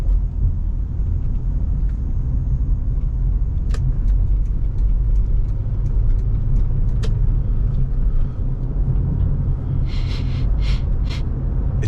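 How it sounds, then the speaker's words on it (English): A 2000 Lexus RX 300 pulling away and accelerating, heard from inside the cabin as a smooth, steady low engine and road rumble, with a few faint clicks and ticks over it. "And the Lexus accelerates smoothly."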